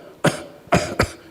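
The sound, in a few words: doctor imitating a patient's cough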